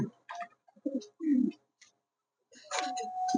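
Giribaj pigeons cooing in short, soft bursts separated by pauses, fairly close.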